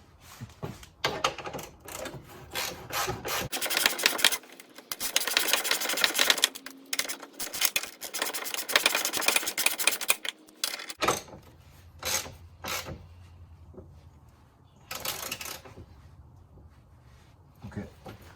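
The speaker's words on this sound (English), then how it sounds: "take our 19mm wrench, set that down on the nut, and start tightening this up" Hand wrench tightening a 19mm nut on the passenger-side lower control arm of a 2003-2008 Toyota Corolla, Matrix or Pontiac Vibe, giving close, repeated metallic rasping and clicking strokes in bursts, with someone talking at times.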